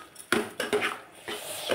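A spoon stirs sugar into carrot halwa in a metal pot, making a few quick, close scraping clinks against the pot sides in short bursts.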